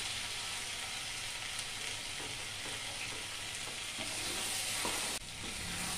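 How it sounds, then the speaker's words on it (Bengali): Cabbage curry stir-fried with a sprinkle of garam masala, a steady close sizzle and crackle with occasional soft scrapes of a spoon through the pan, continuous and fairly loud with no talking. "গরম মশলাটা দেওয়ার পরে আমি খুব ভালোভাবে মিশিয়ে নিয়েছি।"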